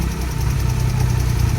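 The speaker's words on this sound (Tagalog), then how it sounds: "umandar ng makina natin ngayon" A Suzuki F6A engine idles steadily after a cylinder head gasket replacement, a loud close low rumble with an even rapid pulsing beat and no voices.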